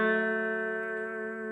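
An electric guitar holds a final sustained note, its pitch gently wavering with bar vibrato as the tone slowly fades.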